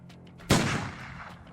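A single heavy gunshot in a zombie turn-based strategy video game, a sharp close crack followed by a decaying rumble, with quiet background ambience before it.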